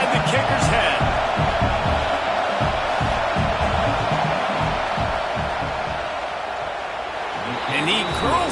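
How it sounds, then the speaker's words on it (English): A stadium crowd in a football video game roars steadily before a field goal kick, a loud, dense wash of cheering and shouting that continues throughout, with a commentator talking over it. "This crowd trying to do its part to get inside the kicker's head."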